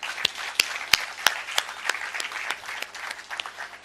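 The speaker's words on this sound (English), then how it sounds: "We should clap for ASA." An audience at a Ugandan microfinance loan event applauds ASA Microfinance, with sharp individual hand claps standing out over a lighter crowd patter that tapers off.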